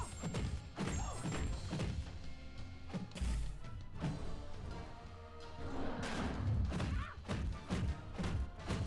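Captain Marvel's heavy attack lands in the Marvel Contest of Champions mobile fighting game, producing repeated dull thuds and impact crashes layered over busy game effects and background music.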